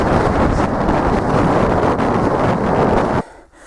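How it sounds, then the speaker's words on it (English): Strong gusty wind on a mountain ridgeline in West Scotland roars and buffets the microphone continuously, then drops off suddenly near the end. "It is incredibly windy over the top of this ridgeline"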